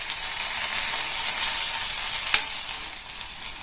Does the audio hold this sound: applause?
no